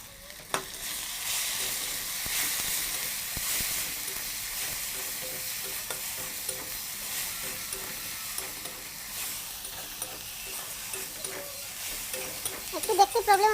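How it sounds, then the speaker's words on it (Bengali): Turmeric, cumin and chili powder frying with tomato in a pan make a soft continuous sizzle, with occasional stirring scrapes and clinks and louder clatter at the end. "তো মশলাটা ভাজা আমার প্রায় হয়ে গেছে"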